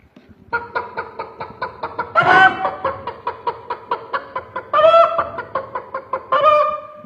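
A performer at a Kerala school arts festival mimicry contest imitates a hen calling a rooster at dawn with rapid, rhythmic clucking notes broken by squawking cries, loud and close, with no other talk.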